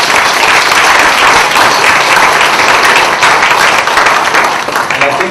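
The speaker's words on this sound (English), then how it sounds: "have your applause for the organizing committees and the funders" A conference audience at an open government civil society day applauds the organizing committees and funders: dense, loud, sustained clapping from many hands that fills the room and holds steady throughout.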